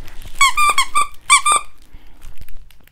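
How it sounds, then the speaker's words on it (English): Rubber squeaker in a dog toy from a subscription box, squeezed several times in quick bursts of shrill, close squeaks, followed by faint rustling and handling noise. "Oh, and this one has a squeaker."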